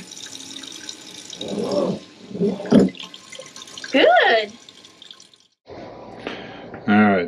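Bursts of spraying water from the spray nozzle of a newly installed boat galley faucet come on and off in short hissing spurts, with a brief spoken word between them.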